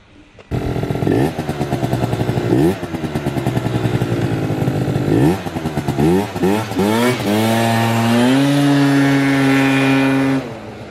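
A three-gear mini bike launches in a street drag race, its small engine revving hard in rising bursts as it shifts up through the gears, then settling into a loud sustained high-pitched drone; nearby competing engines add to the roar.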